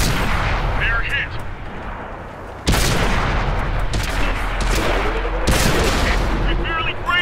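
Cromwell tank cannon fire in a video game battle on the Lakeville map, with two heavy, loud blasts several seconds apart over continuous engine rumble and distant gunfire.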